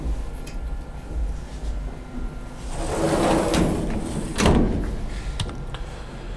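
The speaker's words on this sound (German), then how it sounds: "ich schließe einfach die Tür" The enclosure door of a CNC milling machine slides shut, a rumbling scrape that ends in a firm clunk, close and fairly loud over steady workshop background noise.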